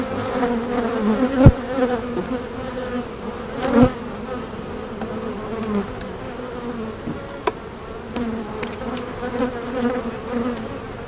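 Honeybees buzz around an open hive during an early May full inspection, a dense steady drone close by with occasional sharp clicks and knocks of hive frames and boxes being handled.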